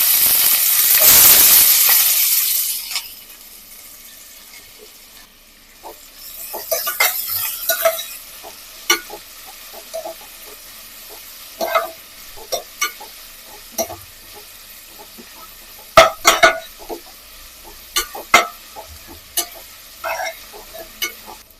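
Chopped onions hit hot oil with cinnamon, cardamom, fennel, bay leaf and stone flower in a village-style South Indian chicken kuruma, giving a loud sizzling burst that settles into a quiet simmer broken by sharp spoon-scrape clicks of stirring.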